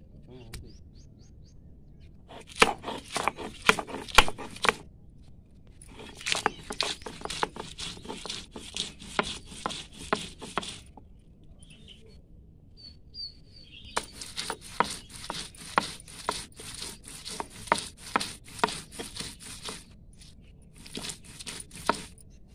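Ginger being crushed and ground in a kitchen, heard as rapid clusters of sharp pounding taps in several runs, with quiet gaps between them.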